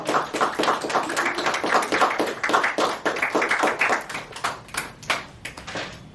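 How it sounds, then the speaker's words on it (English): Steady applause from an audience at a singing recital, many hands clapping in a dense, continuous patter that swells slightly and carries on for several seconds. "One more round of applause to Grace, because that was so beautiful."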